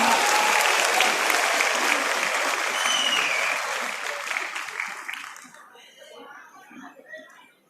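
Audience at a free career counselling event at Chaudhary Charan Singh University, Meerut, applauding loudly as a professor is invited to the stage, the clapping holding strong for about five seconds, then fading to scattered claps and murmurs.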